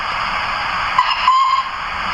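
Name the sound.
model steam locomotive fancy whistle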